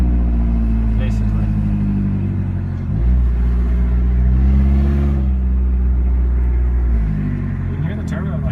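A race car engine revs up and settles several times, with a deep rumbling tone and turbo whine rising on each push, loud and close, while people talk over it.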